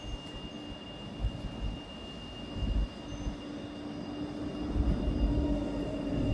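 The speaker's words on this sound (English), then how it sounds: "There's a tram coming right behind me." A tram rolls along a Rostock street, a low continuous rumble of wheels on rails with a faint steady whine, growing slightly louder as it approaches.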